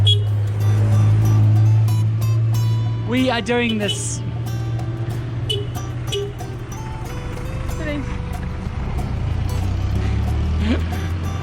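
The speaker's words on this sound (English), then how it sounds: "oh god, these are the buses." Buses idle and drive with a steady low engine rumble at a roadside in Berastagi, Indonesia, while people talk close by over the motor noise.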